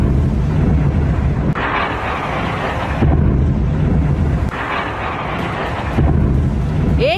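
Russian strike on Kharkiv, Ukraine: loud, rolling booms and heavy rumbling that surge in waves roughly every second and a half, forming one continuous roar with no voices.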